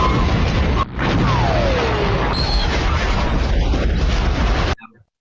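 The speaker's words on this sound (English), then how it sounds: "So the first one is explosions in space." Cinematic explosion in space from a film, a loud sustained rumbling blast with sweeping effects layered over it, cutting off abruptly near the end.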